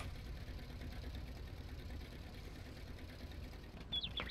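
Tractor engine idling in Farming Simulator 19, a steady low rumble running throughout at a moderate level with no talk over it.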